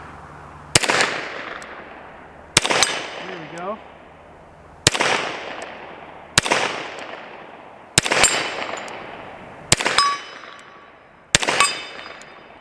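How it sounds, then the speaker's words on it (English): Loud, sharp pistol shots from a Kimber Longslide Target 10mm, seven evenly spaced cracks each followed by a ringing clang from an 8-inch steel gong target, with a brief spoken remark between shots. "Let's go for that 8-inch gong."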